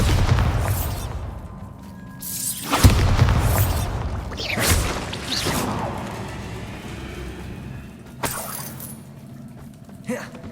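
Bombarda spell blasts in Hogwarts Legacy, several booming explosions with crackling debris and shattering, the loudest near three seconds and further bursts around five, eight and ten seconds over a low game rumble.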